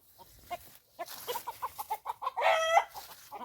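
Chickens hiding in a sugarcane plantation cluck in a quick, agitated series of calls that rise into a louder crow-like squawk near the end, fairly close and with no talking.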